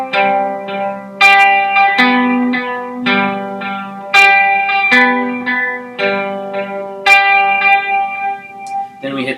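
Lead electric guitar with effects plays the Forever Reign riff, bright sustained notes ringing out with chorus, echo and reverb tails, a steady melodic phrase repeated with no voice.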